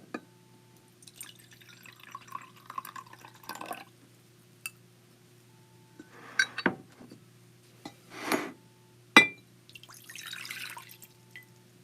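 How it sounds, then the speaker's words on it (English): Warm water poured for a homemade bubble solution, heard as a few short splashing and trickling bursts separated by quiet gaps, close and fairly soft, with a faint steady hum in the background. "to make our bubble solution, we're going to add a half cup of warm water"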